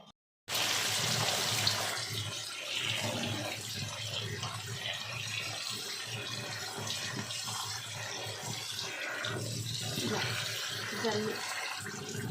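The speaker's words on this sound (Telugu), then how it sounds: "ఇలా జల్లి బుట్టలో వేసి క్లీన్ చేస్తే వాటర్ పోస్తుంటే కింద ఇసుక లాంటిది ఏదంటే కింద నుంచి వెళ్ళిపోతుంది" Leafy greens are rinsed in a sieve basket under a steady stream of running water, with fine sand washing out below; the splashing flow is loud, constant and close throughout.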